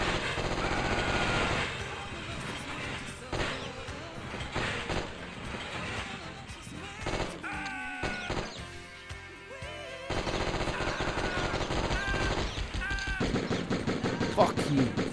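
Rapid machine-gun fire in a video game comes in repeated bursts over a dense, busy game soundtrack, with a brief lull in the middle before heavy firing resumes.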